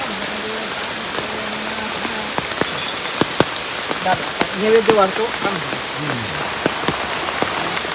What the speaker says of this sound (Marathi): आला पाऊस